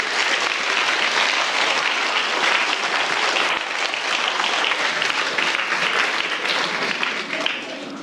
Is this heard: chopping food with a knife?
no